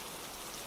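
Steady rain falls in an even, continuous hiss with no breaks or distinct drops, moderately quiet and heard alone throughout the short stretch.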